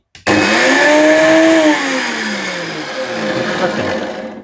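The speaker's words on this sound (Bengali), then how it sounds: "আমি যদি এখন এটা চালাই দেখেন এই যে এখন চালাচ্ছি" A Dyson heavy duty blender motor whirs loudly and steadily after a brief start, its pitch sliding down as it settles, then holding a constant hum to the end.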